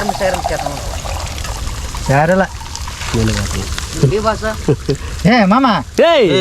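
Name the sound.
pouring water into the chicken pan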